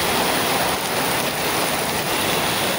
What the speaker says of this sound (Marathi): तुम्ही बघू शकता आता किती प्रमाणात पाऊस जोरात पडतो